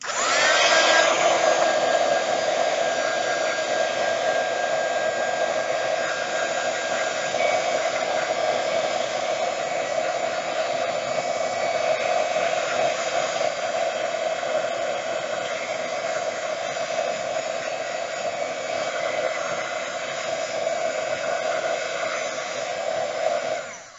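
A hair dryer blowing steadily to dry a recycled-material craft project, a loud continuous whooshing drone with a whine that holds almost unchanged throughout before cutting off at the end.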